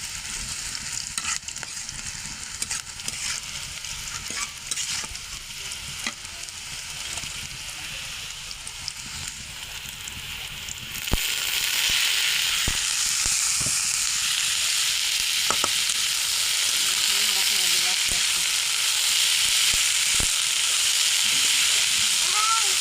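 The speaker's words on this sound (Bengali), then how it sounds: "এখন আমরা শাকটা দিয়ে দেবো," Boiled radish greens go into hot oil with fried chili, onion and garlic, first with scattered clatters and quieter sizzling, then a sudden loud, sustained sizzle and hiss once the greens land; a voice speaks in the background.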